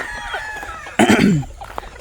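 A rooster at a small chicken farm crows once, loud and close, for about half a second midway through, with quieter clucking and background noise around it.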